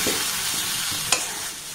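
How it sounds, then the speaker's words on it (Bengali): Raw mango pickle, salted, being stirred in a pan: a steady scraping churn with a low sizzle under it and one sharp clink of the spoon near the end, close and fairly loud, with no one talking. "আবার একটু নাড়াচাড়া করে নেব"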